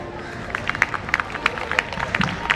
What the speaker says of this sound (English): a loud cheer and a big round of applause as our students put forward their best foot